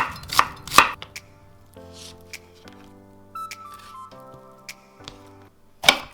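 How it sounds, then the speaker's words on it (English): A kitchen knife julienning carrots on a cutting board strikes in a few sharp, close chops at the start and end, with soft sustained musical tones in between. "First, cut carrots and julienne."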